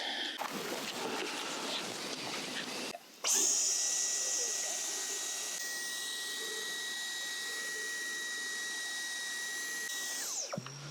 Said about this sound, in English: Feels weird using a domestic vacuum on your car for mechanical purposes, but it worked.